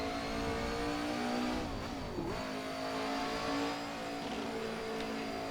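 A Jordan 191 Ford V8 engine in a racing game revs on a warm-up install lap. The loud, steady, high-pitched engine note rises and falls in pitch, drops briefly mid-clip and builds again, with no talk.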